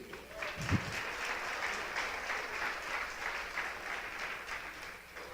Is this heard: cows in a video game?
no